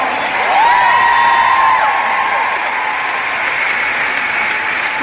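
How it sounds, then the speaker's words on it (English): A large crowd at a women's rights convention applauds steadily, with scattered whoops and cheers rising over dense clapping throughout. "Give them a big round of applause."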